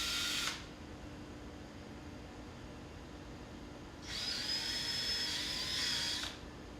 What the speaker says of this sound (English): Drill holes for the mounting hardware on the 2 marks on the level line.